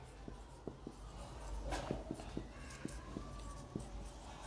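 Handwriting a math proof on a board: faint, quiet strokes and light taps of the writing tool recur in an uneven rhythm, with no voice present.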